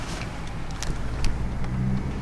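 Engine of a truck driving close behind a 1966 Chevy C20 pickup on the way to a car show, a steady low road rumble with a few brief swells, heard from inside the moving pickup without talk.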